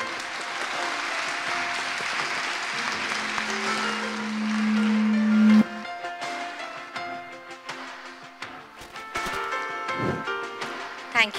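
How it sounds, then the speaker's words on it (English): A school audience of students applauds for actress Vidya Balan at a leadership lecture, a loud continuous wash of clapping that gives way to scattered claps, with some voices mixed in. "And another huge round of applause for Ms."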